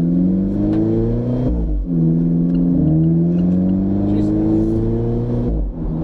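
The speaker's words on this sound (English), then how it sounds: "You can hear it spooling at reasonably low throttle yeah. and revs as well." A 1.7-litre turbocharged Alfa Romeo 4C engine spools and revs at low throttle, a steady loud drone heard from inside the car that rises in pitch, dips briefly at a shift, then climbs again.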